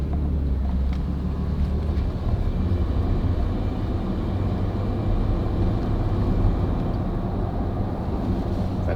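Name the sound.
Ford Raptor accelerating to and cruising at 50 km/h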